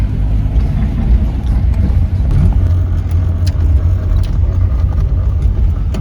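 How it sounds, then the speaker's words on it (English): A Fiat taxi drives through Warsaw, heard from inside as a steady, close low road rumble and engine drone with faint tire noise and no one speaking. "So we've started riding in our Fiat taxi."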